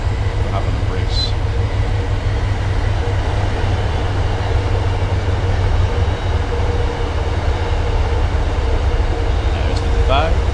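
An MBTA Boston commuter train running in the Train Sim World 5 game, a loud steady rumble and drone of the moving train with faint higher tones throughout.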